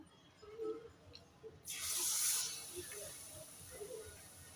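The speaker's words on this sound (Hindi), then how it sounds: "इस तरह डिप करेंगे और फ्राई कर लेंगे" Khoya-and-almond-stuffed dates dropped into hot oil, a sudden loud frying hiss that bursts up then settles into a steady sizzle, close by and quiet otherwise.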